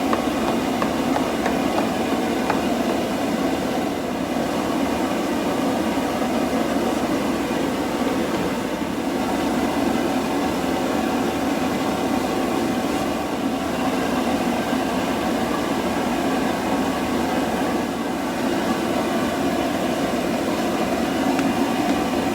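Steady vacuum motor drone runs continuously and fairly loud while a wooden sideboard cabinet is cleaned out before painting, with a constant broadband hum and no speech.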